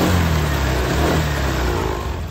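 A Honda Vario 125 scooter engine is revved under load, giving a loud, close, steady mechanical roar that holds for the whole moment without talk.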